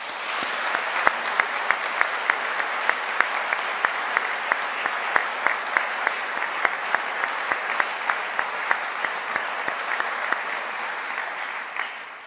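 Steady applause from a large audience at a university medical school graduation ceremony, many hands clapping continuously at an even level throughout, with no voices standing out.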